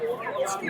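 Black chicks at a bird market give a brief, soft cluck and cheep, quiet against market background noise.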